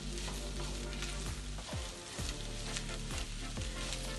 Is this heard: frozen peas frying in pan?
yes